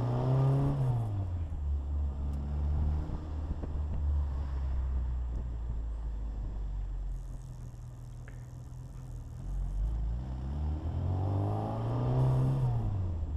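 A custom Austin-Healey Super Sprite with a 1380 engine and five-speed conversion drives along, its engine drone steady and loud from inside the car, swelling with revs at the start and end with some wind rush.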